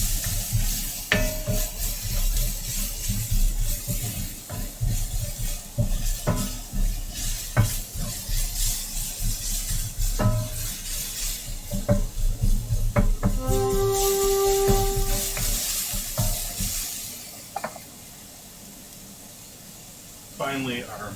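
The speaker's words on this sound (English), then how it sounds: "Gotta get all that sizzle ASMR." Food sizzles in a frying pan, a steady loud hiss with scattered clinks and scrapes of a utensil against the pan, while someone talks over it; the sizzle drops away near the end.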